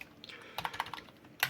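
Fingers type on a cheap SKYLION H300 membrane keyboard, soft muffled key presses in an uneven burst of about a dozen taps, close and quiet, with no voices.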